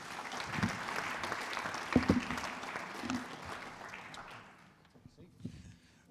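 A round of applause breaks out at a live aviation innovation pitch competition, dense clapping from the audience that fades toward the end, with a few separate claps and some voices around it.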